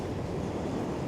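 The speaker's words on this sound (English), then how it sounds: "Sea is very choppy" Choppy winter sea washing and churning steadily close by, a dense broadband surf wash mixed with wind noise buffeting the microphone, with boats out on the water.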